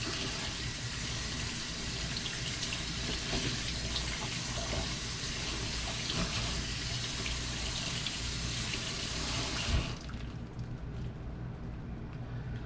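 Kitchen tap water runs steadily and close for a long stretch while fruits and vegetables are scrubbed with a brush, then the flow is cut off abruptly near the end.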